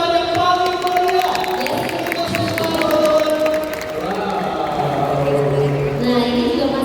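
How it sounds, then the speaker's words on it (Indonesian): An audience at an entrepreneur summit breaks into applause and cheering, a busy crowd sound that holds steadily and is mixed with music tones. "Mari kita berikan tepuk tangan yang paling meriah."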